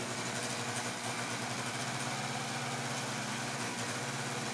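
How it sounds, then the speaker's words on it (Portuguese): A small electric motor drives a model railroad turntable controlled with TMCC, giving a steady, continuous mechanical whirring hum with no pauses. "Agora ele vai para o outro lado, o girador."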